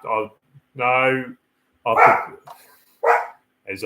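Dogs barking in short, loud bursts indoors at a poodle outside a flat, several barks and yips spaced irregularly, close by and alone with no talk.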